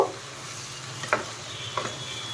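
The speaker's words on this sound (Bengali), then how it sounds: "চিকেনটা ভালো করে একটুখানি ফ্রাই করে কষিয়ে নিয়ে" Chicken frying in a pan for dum biryani, with a steady low sizzle and two brief stirring scrapes of the spatula.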